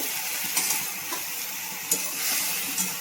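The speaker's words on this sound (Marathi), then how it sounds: "तर गवारी थोडी भाजून घ्यायला लागले मी" Steady dry sizzling and hissing from cluster beans roasting in a hot pan, with occasional scraping stirs, no voices.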